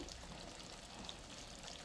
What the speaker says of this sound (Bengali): এই যে অল্প একটু পানি দিলাম